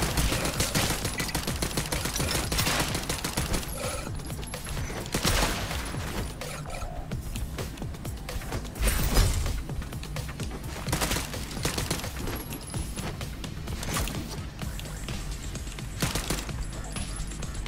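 Enemy gunfire in the run-and-gun video game Howler, a dense, continuous barrage of shots and bursts with game sounds, steady throughout and loud in the mix.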